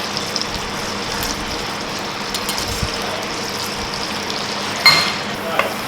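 Finely diced onions and finely chopped garlic fry in butter in a casserole dish, giving a steady close sizzle with light stirring scrapes and a brief clatter near the end.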